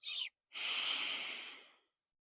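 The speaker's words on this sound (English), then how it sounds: "Inhale through the nose" Deep breathing during a chair yoga breathwork session: a short sharp inhale through the nose, a pause, then a long airy exhale fading out, close and alone.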